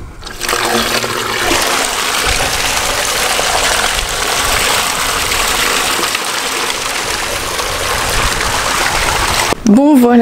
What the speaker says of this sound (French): j'ai rempli la tonne à eau